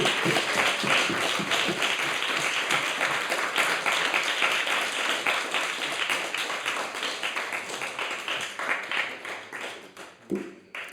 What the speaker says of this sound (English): please give one more massive round of applause for today